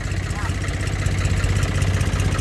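A motor idles steadily with a low, even rumble before being shut off, close and constant throughout, with a voice talking over it.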